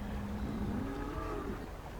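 A cow lowing at a cattle farm in Anno 1404, one long drawn-out moo heard faintly over a soft ambient background.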